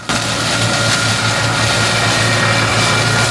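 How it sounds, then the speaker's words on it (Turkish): A tractor fitted with a telescopic mowing and shredding machine clears roadside grass and brush, producing a loud, steady engine drone with a continuous whirring mechanical roar close by. "traktör ve ona bağlı biçme makinesi ile yol kenarlarındaki otlar ve çalıların temizliği devam ediyor"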